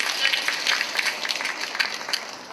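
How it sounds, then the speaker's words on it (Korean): A lecture audience claps in thanks for the volunteers who acted out roles during a talk on Buddhist meditation, a steady patter of many hands, fairly close and unbroken by speech. "역할 해주신 분들께 감사의 박수 한번 부탁드립니다."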